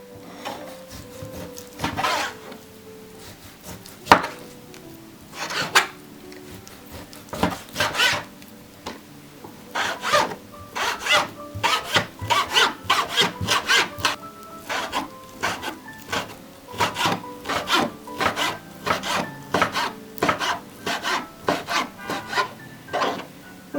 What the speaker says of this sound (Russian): Сейчас все нарезаем кубиками